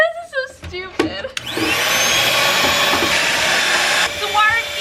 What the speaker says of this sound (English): we're gonna try it with a vacuum